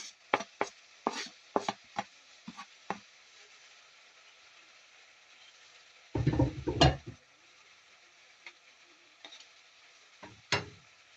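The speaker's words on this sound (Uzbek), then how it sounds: "men kinzani tomirlari bilan birga to'g'rayman" A knife chops cilantro on a cutting board in short quick bursts, then a heavier flurry of chopping, with a few scattered taps afterward; nobody speaks.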